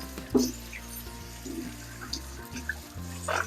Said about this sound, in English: just gonna wash them, put them to drain